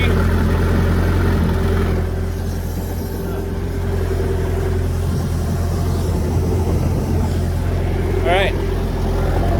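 The engine of a 2008 Bayliner 185 boat runs at a steady, loud idle, a constant low rumble and whir throughout, while someone briefly speaks over it.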